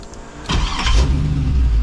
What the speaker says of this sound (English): carbureted engine just starts like that. Instant. Runs great.